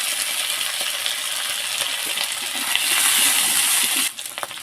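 Steady loud sizzling of crab frying in hot oil with black cumin, a continuous hiss that swells briefly and then drops off near the end.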